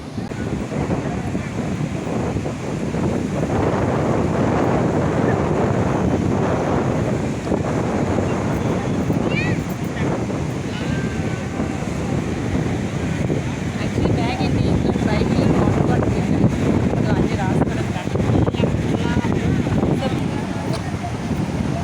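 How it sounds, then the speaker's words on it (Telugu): Wind gusts roar across the microphone at a beach while surf washes in behind, a continuous loud blustery rush throughout, with people talking faintly underneath. "గాలి వేస్తుంది, చూసారు? బీచ్ చూసారండి."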